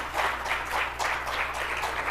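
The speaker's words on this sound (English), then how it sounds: "So can we give another round of applause for the CART facilitators?" Audience applause for CART facilitators at a community update gathering, a steady wash of many hands clapping at a moderate distance over a low constant hum, no talk.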